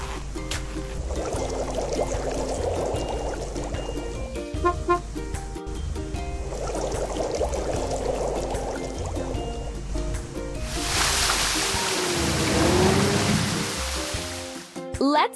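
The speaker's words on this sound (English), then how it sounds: "Let's fill it with water and turn the fountain on." Water pouring to fill a fountain in a video game; a gurgling liquid fill repeats twice among chiming game sounds, then gives way to a loud, rushing burst of water.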